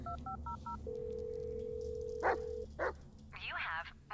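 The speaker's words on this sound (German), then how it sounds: "Warte mal, Wauzi, ich muss mal kurz telefonieren." Telephone keypad dialing tones in the Blair Witch video game: four short beeps in quick succession, then a long steady ringing tone, with a dog barking briefly and a voice speaking afterward.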